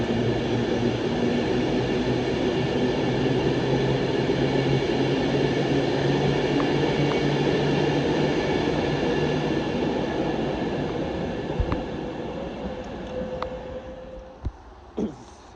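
Steady electric hum and whine of Avanti West Coast Pendolino 390-117 idling at Stoke-on-Trent station, tones shifting slightly, with a few clicks and clunks near the end.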